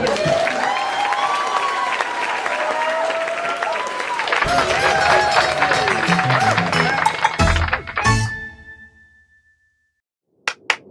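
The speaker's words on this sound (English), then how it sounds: "We gotta have more applause there." Audience applause fills a small stand-up comedy show, loud and sustained with a few voices over it, then dying away abruptly into near silence before a couple of sharp knocks at the end.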